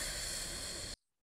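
A steady, whispery hiss voiced by a person imitates a quiet lawn sprinkler, holding evenly for about a second before cutting off abruptly into silence.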